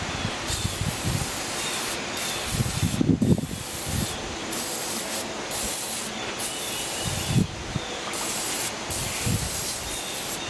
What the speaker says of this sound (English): got another round of degreaser for the tilt unit